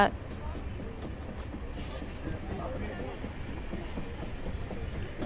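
Diesel train 16575 from Yeshwantpur to Mangaluru rumbles steadily along a high mountain route, a continuous low roll of wheels and carriage noise heard from aboard, with faint voices mixed in.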